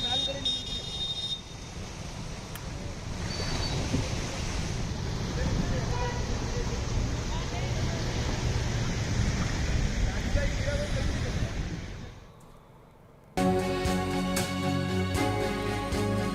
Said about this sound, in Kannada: ಇದು ರಸ್ತೆ ಮೇಲೆ ಈ ರೀತಿಯಾಗಿ ನದಿಯಂತೆ ನೀರು ಹರಿತಾ ಇರುವಂಥದ್ದು